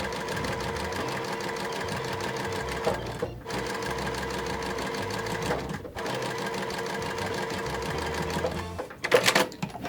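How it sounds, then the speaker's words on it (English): A sewing machine stitching border pieces and cornerstones for a quilt block runs in a steady, close mechanical whir. It stops briefly twice, and a short clatter comes near the end. "So we have the cornerstones, and we're sewing these together."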